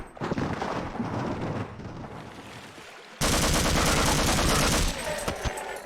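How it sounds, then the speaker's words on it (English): Rapid video game gunfire, dense automatic bursts that grow louder and harsher midway, continuous and close with no talking. "I feel like the shots don't actually line up with the reticle super well."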